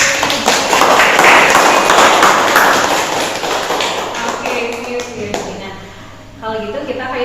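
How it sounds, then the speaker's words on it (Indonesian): A classroom of students applauds in a loud burst of dense clapping that gradually thins and fades, followed by a teacher's voice speaking. "boleh beri aplaus untuk"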